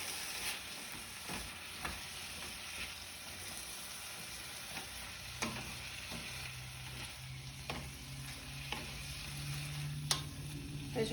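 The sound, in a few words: green beans frying and being stirred in a pan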